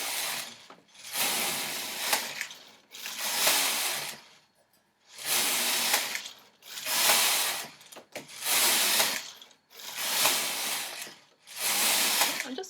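A domestic knitting machine carriage is pushed back and forth across the needle bed, making long, loud rattling and whirring passes of about a second each, separated by short pauses, close and without talking.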